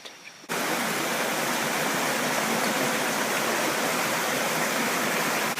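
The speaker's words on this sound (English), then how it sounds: "we find ourselves at a waterfall." A jungle waterfall on Koh Chang, Thailand roars in a steady, loud, broadband rush that starts abruptly after a brief quieter moment and continues unbroken, with no voices.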